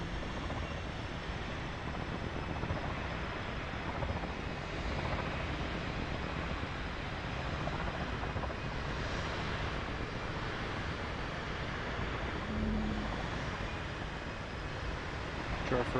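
Idling engine hum of the Pelican dropship from Halo, flown as an aircraft in Microsoft Flight Simulator, a steady broad whine and rumble holding close and even throughout.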